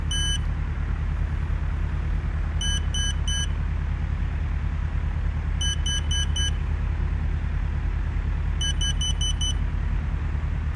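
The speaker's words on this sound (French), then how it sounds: "vous allez avoir une succession de bips courts. 2 pour la petite vitesse, 3 pour une vitesse un peu plus élevée" Short electronic beeps from the electric frunk actuator on a Tesla Model 3 during speed setup, sounding in four separate bursts of two to four quick tones over a steady low vehicle hum.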